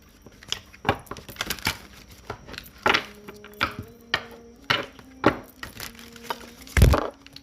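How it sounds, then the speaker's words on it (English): A deck of cards is shuffled close up, with a run of crisp snaps, riffles and soft thuds in uneven bursts and a heavier knock near the end, with no voices. "we're just going to go on and shuffle these and pull a card out for you guys"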